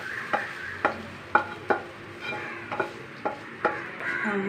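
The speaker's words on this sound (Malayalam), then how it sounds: "നന്നായി ഇളക്കുക." A spoon stirs spiced masala into wheat dosa batter in a bowl, making about ten distinct scraping clinks against the side at a steady rhythm, with soft wet sloshing between them. It is close and there is no talk.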